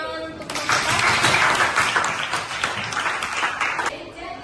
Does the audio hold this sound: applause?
yes